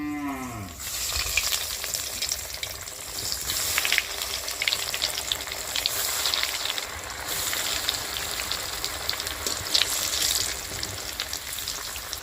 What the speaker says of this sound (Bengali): এইবার চপগুলো ভেজে নেব।